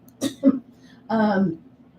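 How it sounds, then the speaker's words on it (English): Two short, sharp coughs followed by a longer throaty cough or clearing sound, close up and fairly quiet. "I'm coughing now, so it could be also COVID or something in the lungs"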